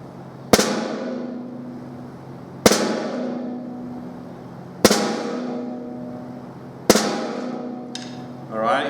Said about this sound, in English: We play a flam when we want a thicker texture to the sound